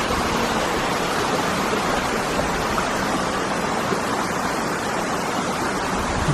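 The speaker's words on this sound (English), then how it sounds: "the waterfall's just over there" A waterfall roars as a steady, dense rush of water, broad and constant with no pauses or breaks, with no voices over it.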